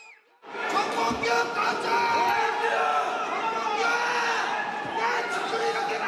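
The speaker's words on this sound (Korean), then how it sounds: "정 회장을 알아본 축구팬들은 거센 야유를 쏟아냅니다" Football fans at an airport arrival gate boo and jeer Korea Football Association president Chung Mong-gyu, a loud, sustained crowd roar with individual angry shouts rising above it.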